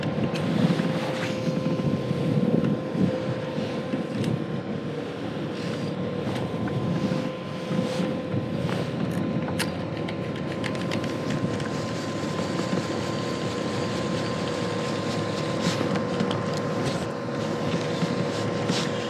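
Wind buffets the microphone steadily and fairly loudly outdoors while a fishing lure is cast with a baitcasting reel, a constant rushing roar with occasional faint clicks and small knocks.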